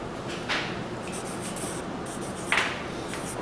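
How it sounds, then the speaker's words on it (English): A pencil scratches on paper while drawing wiggly circles for a perspective sketch, a soft continuous rubbing with a few brief sharper strokes, close and quiet with no talking. "And then you just draw wiggly circles on top."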